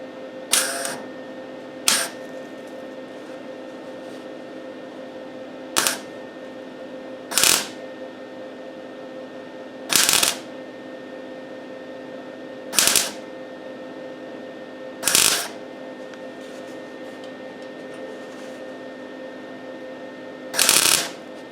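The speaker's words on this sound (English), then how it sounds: "I'm going to tack weld that little flange that I cut into the top portion here" Tack welds on a steel flange cut into the top portion of a stone guard for a Brooklyn Pony: eight short, sharp crackling bursts spaced a few seconds apart over a steady low hum, with no talking.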